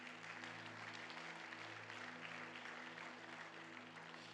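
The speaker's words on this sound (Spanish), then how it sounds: "Le da un fuerte aplauso al Señor, por favor." Church congregation clapping in response to a pastor's call for applause: sustained, even crowd applause for several seconds at a faint level, over a low steady hum.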